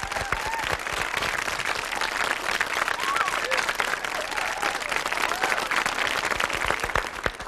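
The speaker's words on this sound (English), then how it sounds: "Let's give them a big round of applause" A school audience at a music show applauds warmly, sustained dense clapping throughout with a few scattered cheers and whistles mixed in.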